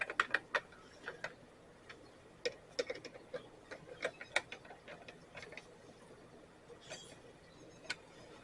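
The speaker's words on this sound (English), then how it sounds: "I'm going to tighten this down first, and then I'm going to go to the top and tighten down the 2 screws on top." Screws being tightened on a John Deere JS63 self-propelled push mower, heard as faint, close ratcheting clicks and metallic ticks in short irregular bursts against a quiet background.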